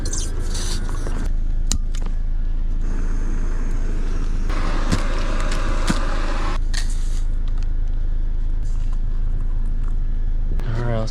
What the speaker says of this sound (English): I got the car running, still charging that battery